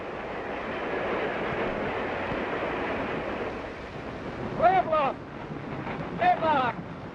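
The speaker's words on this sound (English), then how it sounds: "the Powhatan Arrow streaks by, one of our finest trains" Norfolk and Western's Powhatan Arrow streamliner, a fast passenger train between Norfolk and Cincinnati, rushing past as a steady roaring rumble, with two brief whistle-like tones rising near the end.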